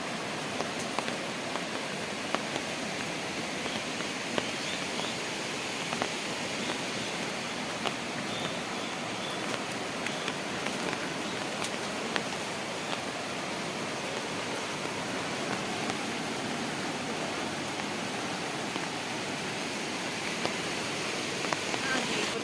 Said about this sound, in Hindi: मैं आपको दिखाती हूँ कि हमारी सरयू नदी कैसी लग रही है